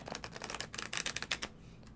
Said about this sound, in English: I'm going to shuffle a couple more times